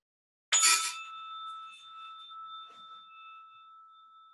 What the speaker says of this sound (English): I'll ring the bell to start us and invite you to just notice the sound